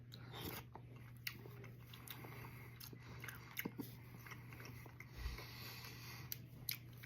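Soft close-up chewing and biting of cubed beef from a frozen Banquet beef pot pie, with quiet intermittent crunchy mouth sounds over a low steady hum and no talking.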